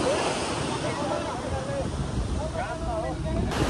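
Sea waves wash against the seashore on a bright sunny day, a steady, close rush of surf and wind noise running throughout while people talk over it.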